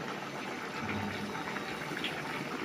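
Water poured into a pan of fish and potato curry with fried potatoes, a steady broadband gushing pour running throughout at moderate level, close and alone.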